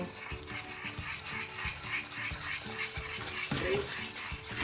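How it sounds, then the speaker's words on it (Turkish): Milk and sugar are whisked together for a profiterole cream, making a steady, close, rhythmic whisk scraping and clinking against the pan, with no talking. "Sütümüzü yavaş yavaş karıştırarak güzelce çırpıyoruz ilk önce."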